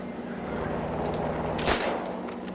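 A single sharp gunshot cracks out partway through, from the video game GTA 5, over a steady low engine-like hum.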